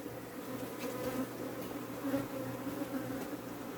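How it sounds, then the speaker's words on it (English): A swarm of Africanized honey bees hums in a bee yard, a steady, droning buzz with faint individual wingbeats passing by, fairly quiet and without speech. "Right, so that's the swarm."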